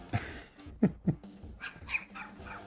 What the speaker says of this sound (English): that's a dog from across the street.